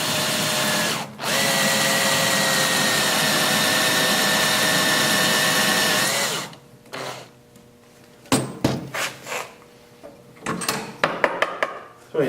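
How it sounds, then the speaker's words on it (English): A power drill whines steadily at close range as it bores a hole into a horn held in a vise, briefly pausing before the motor spins down, followed by scattered clatters and knocks of handling. "So we're going to take the drill."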